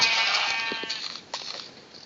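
A Minecraft goat gives a couple of short, bright bleats in quick succession, close and clear over a quiet background.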